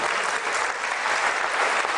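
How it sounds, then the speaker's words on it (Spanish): A church congregation applauds during a sermon, a loud dense wash of clapping from many hands that holds steady throughout with no voices over it. "Un aplauso a Jesús."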